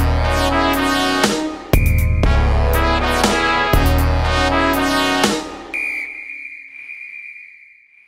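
Sharp, loud bursts of a referee's high whistle repeat several times in quick succession, then one thin shrill note trails off alone.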